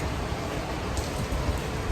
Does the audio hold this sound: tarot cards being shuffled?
no